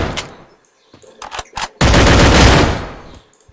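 Video game gunfire in a match, a few sharp separate shots followed by a sustained loud burst of rapid automatic fire that fades out.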